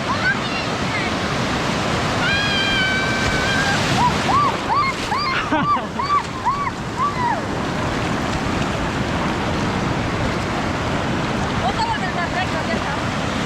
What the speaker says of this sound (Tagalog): ang laki ng alon